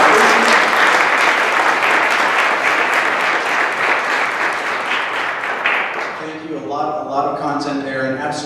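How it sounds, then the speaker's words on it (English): An audience at a Cleaner Air Partnership luncheon applauds steadily for several seconds, the clapping fading as a speaker begins talking over the tail end. "Let's give a round of applause to."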